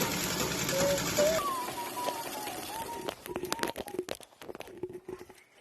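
A foot-pedaled sewing machine stitching bias binding onto a slipper, a whirring run at first, then a series of short mechanical clicks and taps, with a brief voice near the start.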